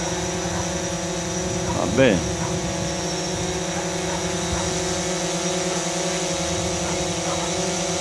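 Drone propellers drone steadily throughout at moderate loudness, a constant insect-like whine with stable harmonic bands, while a voice briefly speaks over it.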